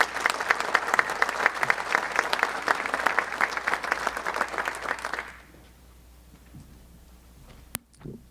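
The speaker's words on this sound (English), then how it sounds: "Join me in applauding Lee." An audience at a student excellence award ceremony claps steadily for about five seconds, then the applause cuts off, leaving quiet room tone and a brief click.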